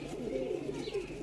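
A Madrasi pigeon gives a low, soft cooing close by, a brief throaty murmur with faint background noise.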